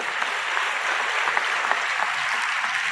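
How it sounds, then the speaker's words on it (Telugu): A crowd at a church sermon clapping, a dense, steady wash of applause with scattered sharper claps, moderately loud and continuing through the whole stretch with no speech over it. "ఇప్పుడు కొట్టాలి కదా చప్పట్లో"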